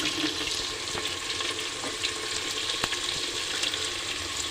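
Water added to a pan of sizzling spices (red chili powder, salt, turmeric and onion seed) for a mutton liver dish, giving a steady loud hiss and bubbling sizzle with occasional sharp crackles throughout.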